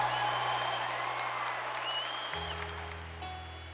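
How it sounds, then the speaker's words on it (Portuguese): A Catholic congregation at a youth-focused church gathering breaks into sustained applause that fades gradually, while held keyboard tones sound through it and a new chord enters partway. "Então aplauda com muita força esse irmão que tomou essa decisão"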